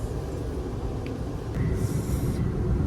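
A train bound for Waterloo rolls along with a steady low rumble and rattle that grows slightly louder partway through, with no voices.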